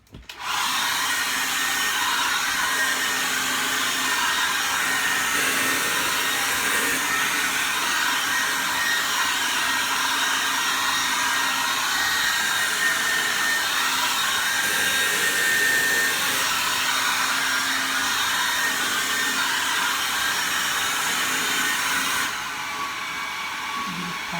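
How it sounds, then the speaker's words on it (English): A handheld hair dryer roars steadily and loudly at close range for about 20 seconds while blow drying the back of someone's hair, then cuts off near the end. "I'll be back after I finish blow drying the back of this"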